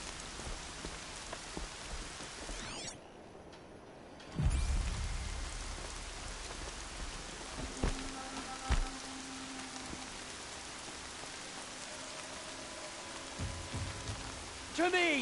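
Steady rain pours across a surface in a video game world, a dense continuous hiss that holds throughout, broken by a brief quieter gap and a few low thumps and tonal game sounds.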